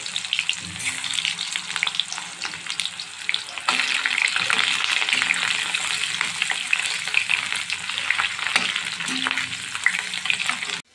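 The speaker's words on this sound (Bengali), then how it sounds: "এখন আমি আলু ভাজা কড়াইতে দিয়ে দিচ্ছি গোটা মশলা, শুকনো লঙ্কা 2টো, আর দিয়ে দিচ্ছি এখানে একটা পেঁয়াজ।" Whole spices, two dried chillies and an onion hit hot oil in a wok used for frying potatoes, giving a sustained, close sizzle with intermittent stirring clinks and scrapes throughout.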